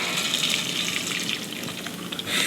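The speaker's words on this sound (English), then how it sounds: "Take the Franks and pour it in." Homemade Frank's-style hot sauce poured from a container into a jar, giving a steady liquid gush and splash, close and fairly loud, with no talk over it.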